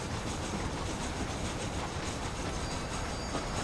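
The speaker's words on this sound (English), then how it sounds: "So we've got the train here." A train in Red Dead, set in Mexico, with a continuous, loud rolling rumble and clatter of wheels on track, steady throughout and no talk.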